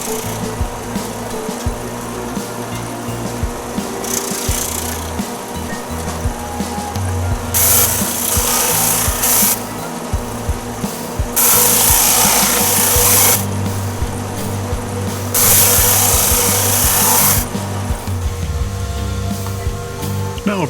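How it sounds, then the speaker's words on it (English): A drum sander planing thin veneer strips of exotic wood for a turned bowl, running in several loud bursts of broadband hiss between quieter motor hum, each pass lasting a couple of seconds. "over to my drum sander to get it perfectly planed"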